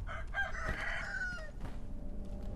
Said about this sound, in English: I'm pretty sure there's a chicken here.